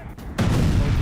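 A sudden heavy explosion at fuel tanks in Erbil, Iraq, during a drone attack, erupts into a loud sustained rumbling roar after a brief quieter moment, with no voices.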